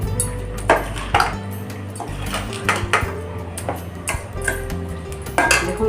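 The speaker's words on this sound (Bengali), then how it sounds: "এবার ভালো করে সব মশলা আম একসঙ্গে মিশিয়ে নেব" Mango pickle being mixed with spices and cooled heated oil, giving repeated clinks and scrapes of a utensil against a metal bowl in an uneven rhythm, close and moderately loud, with no talking.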